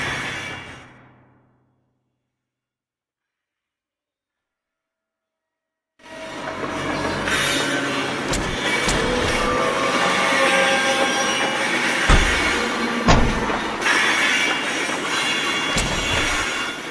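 A train passes in the game L.A. Noire: after a stretch of near silence, a loud steady rumble of rolling rail cars rises and holds, with occasional clacks and wheel squeals.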